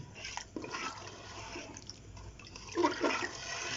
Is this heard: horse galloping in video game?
no